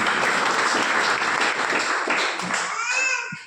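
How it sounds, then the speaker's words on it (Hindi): Enthusiastic audience applause at a business income presentation, dense and loud clapping filling the room before tapering off near the end as a voice begins. "मैं चाहूंगा ब्रांड एम्बेसडर रैंक के लिए एक जोरदार धमाकेदार ताली।"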